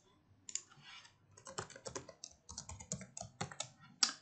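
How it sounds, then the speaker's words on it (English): A password is typed on a computer keyboard, giving quiet close-up key clicks in an irregular patter with short pauses and a sharper final keystroke. "here I should type my password"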